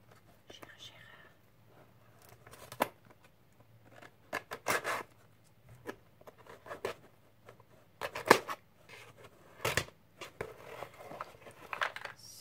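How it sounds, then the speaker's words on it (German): Scissors snip and slice through a cardboard box in a few quiet, irregular bursts of cutting and crinkling, with soft whispering-level sounds and rustling in between. "Schere."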